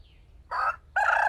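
A rooster on a farm fence crows twice in two loud, harmonic bursts with a short gap between them, set against a quiet low hum. No one speaks.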